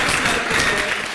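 An audience at a personality development session claps together in a dense, even burst of applause that runs unbroken for about a second.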